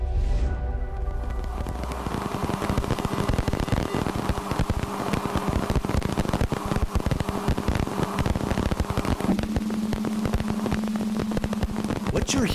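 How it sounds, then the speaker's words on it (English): Recorded dust impacts on the rings of Uranus, heard as a dense, steady crackling hiss like static or rain with faint tonal hums underneath, continuous throughout with no talk. "What you're hearing now is the sound of dust impacts on Uranus's rings"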